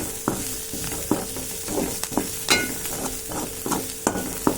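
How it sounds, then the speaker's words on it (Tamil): Onion and masala for an egg masala are stirred in a hot pan, a spoon scraping in steady, evenly spaced strokes over a continuous soft sizzle, close and clear with no talking. "நல்லா மசாலாலாம் மிக்ஸ் ஆகிற அளவுக்கு நல்லா கிண்டி விட்டுக்கோங்க"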